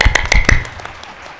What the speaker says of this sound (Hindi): अब आपके नाम से मैं ताली बजा देता हूं।